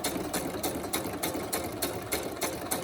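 An old, loud Icon sewing machine stitches along the edge of fabric, its needle thumping in a fast, steady mechanical rhythm close up.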